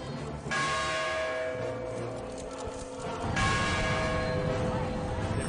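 Returned Balangiga church bells ring with a sustained metallic resonance, struck again partway through, set against a busy background with hoof-like clatter and murmuring voices.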